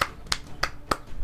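A few sharp, evenly spaced claps or snaps, about three per second, close and alone with no talk.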